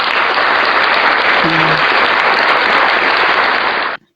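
An audience at an informal chat show claps on cue, a loud, dense burst of applause holding evenly for about four seconds before cutting off abruptly, with a brief voice sounding partway through.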